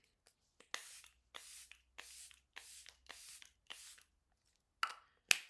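A series of short, hissy spray bursts in a steady rhythm, about eight close-up pumps, ending with a couple of sharper clicks.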